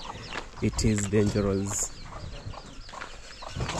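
Hens and chickens cluck in a rural village yard near Kisumu, Kenya, in a short burst of calls close by while people talk over them.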